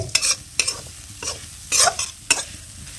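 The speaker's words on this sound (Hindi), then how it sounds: "अब इन मसालों को भी भट्ट के साथ कम से कम 3-4 मिनट तक अच्छे से भून लेंगे।" Black soybeans frying with spice paste in a pan, stirred in a few separate bursts of scraping and sizzling, close and fairly loud, no talking.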